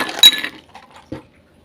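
Ice cubes drop into a drinking glass to chill a drink served with beef innards papaitan: a loud glassy clinking clatter up front, then a few softer knocks and one last clunk before silence, with no talking.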